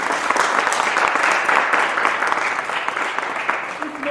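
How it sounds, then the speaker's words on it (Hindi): An indoor audience applauds to welcome guests at the closing ceremony of an art exhibition and book launch, steady dense clapping that stays loud throughout. "कृपया जरा ताली में स्वागत करें।"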